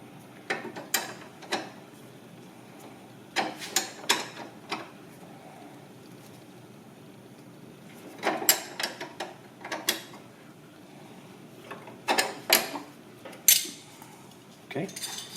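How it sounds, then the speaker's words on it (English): Metal clinks from a 17 mm flare nut wrench, steadied by a backup wrench, as a brake line flare nut is tightened while a StopTech Competition brake kit goes onto an NC Miata; sparse clusters of close, sharp ticks come in bursts. "Now we're going to go ahead and tighten the flare nut in."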